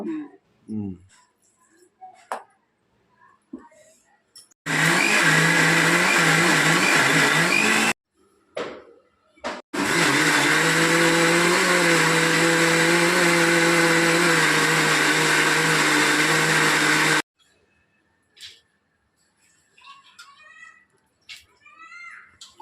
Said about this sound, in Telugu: ఇది పచ్చిమిరపకాయ వేసి రుబ్బేయాలి